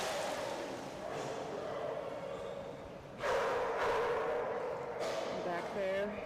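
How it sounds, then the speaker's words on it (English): A dog barks in the distance, a few sharp yelps breaking through steady outdoor background noise, with people talking nearby. "Back there, you can hear her brother barking."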